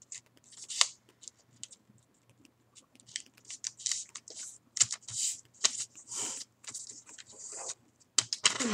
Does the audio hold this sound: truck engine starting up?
no